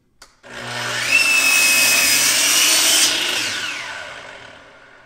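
A power saw cuts through a 1x6 wooden board in a jig, a sharp start followed by a loud whining rip lasting about three seconds, then the blade spins down, close and with no talk.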